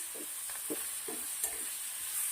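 Green coriander being stirred into sautéed vegetables for a Mexican-style dish in a pan, soft sizzling under a series of five or so light, rhythmic stirring scrapes.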